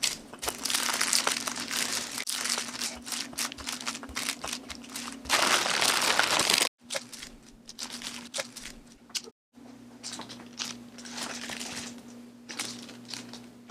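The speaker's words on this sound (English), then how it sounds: "I'm going to use parchment paper." Parchment paper crinkles and rustles as cookie dough is rolled out on it, making nearby continuous crackling with a couple of brief gaps, over a steady low electrical hum.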